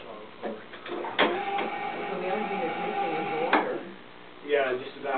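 A speedboat-style engine sound effect from a boat-shaped bed plays a mechanical whirring drone with clicks and a rising throttle tone, close and moderately loud, while people talk.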